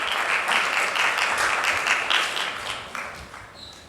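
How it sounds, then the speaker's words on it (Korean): A church congregation claps in steady, dense applause, loud and sustained before tapering off at the end. "우리 큰 박수로 맞이해 주시기 바랍니다."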